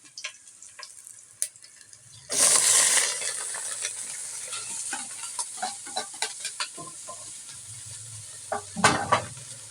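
Pork innards drop into a hot pan for dinuguan and burst into loud, close sizzling, followed by steady frying with clinks and scrapes of a spoon stirring against the pan.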